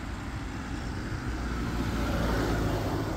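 A car passes on an open road, a steady broadband rush of engine and tyre noise that swells slightly toward the end as the vehicle overtakes, heard from nearby with no talking.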